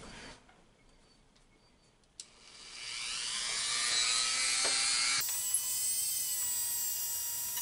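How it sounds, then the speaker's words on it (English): A rotary cutting tool slices slowly along the seams of a plastic proton pack cyclotron, starting with quiet scraping and then a sustained high whine that grows louder and steadier. "Very slowly and carefully cut off along the edge of the Cyclotron, going right along the seams."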